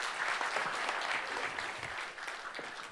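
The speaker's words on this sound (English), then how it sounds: "I give James an applause" Conference audience applauding a speaker named James at a talk, a dense sustained round of clapping that tapers slightly toward the end, with no voices over it.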